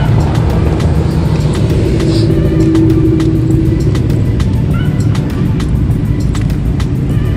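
Cars leaving a Cars and Coffee meet in Charlotte rumble past with loud engine drone and revving, close by, with voices and crowd chatter mixed in.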